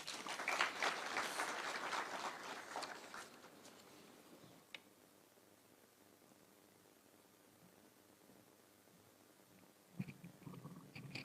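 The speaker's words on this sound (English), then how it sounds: "Another round of applause for Honorable Mokaya." Audience applause at a Supreme Court anniversary ceremony in Kenya, a dense clapping burst for the first few seconds that fades into quiet room tone, faint and distant, then a few scattered claps near the end.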